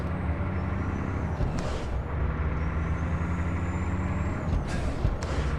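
Heavy truck engine in American Truck Simulator drones steadily and loud as it works up through the gears, with brief airy hiss bursts between shifts and a faint rising whine over the continuous rumble.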